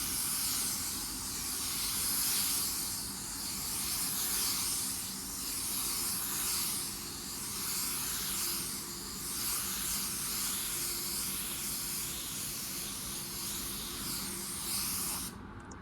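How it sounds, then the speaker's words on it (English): A steady, loud hiss of a spray gun spraying metallic paint continues throughout, with slight rhythmic swells as the spray passes back and forth. "when you're spraying a metallic, really pay attention to your overlaps"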